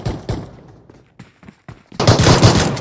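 Pistol fire in a video game: a few sharp shots spaced apart early on, followed by a loud dense burst of rapid gunfire toward the end.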